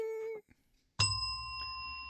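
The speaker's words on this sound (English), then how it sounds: "When we're thinking about it, ring the bell." A bright bell on a wrestling podcast is struck once and rings out with a long, steady, shimmering decay. A short tone and a brief silence come before the strike.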